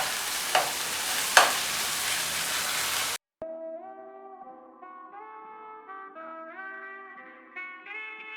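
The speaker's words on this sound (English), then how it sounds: "Make sure you rotate the meat so that all the tiny bits of meat can get well cooked." Ground beef for samosa filling fries in a pan with a dense, close sizzle, broken by two sharp stirring scrapes. After about three seconds the sizzle stops and music takes over.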